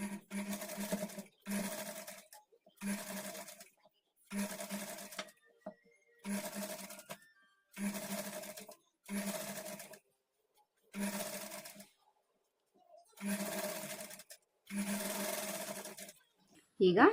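A sewing machine stitches a kurti sleeve to the shoulder seam in about ten separate runs of steady, fast whirring, each one to two seconds long with short silent pauses between.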